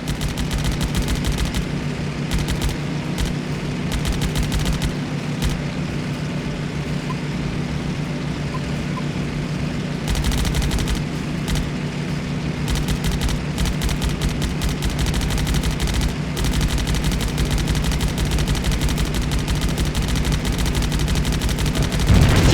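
Aircraft guns in the Damage Inc. Pacific Squadron WW2 game open up on rusted old Jeeps, a loud, steady rattle of rapid gunfire that runs through the whole stretch with brief lulls, backed by a constant low engine drone.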